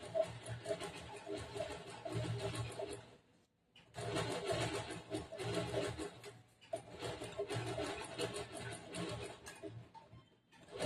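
A sewing machine stitches the lining of a bordered blouse in two steady bursts, pausing briefly in between, with a fast mechanical needle rhythm at moderate, close volume.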